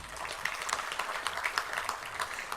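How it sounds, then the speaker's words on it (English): An audience applauds during a consumers plenary session at a health conference, a brief, fairly faint patter of many hands with no one speaking. "Please give a round of applause for Jan McMahon OAM."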